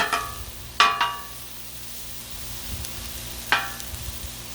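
Bacon and vegetables frying on a Blackstone griddle, a soft continuous sizzle broken by sharp metal spatula scrapes and clacks against the hot steel, close and clear with no talking.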